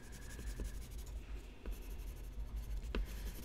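Colored pencil shades across paper with a steady, soft scratchy rasp of quick repeated strokes, close up and quiet, with no talking over it.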